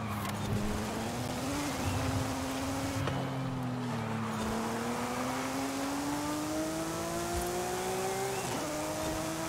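Porsche 911 GT3 RS at high speed, a steady engine drone with its pitch slowly rising through the gears over constant road and wind rush, loud and continuous throughout.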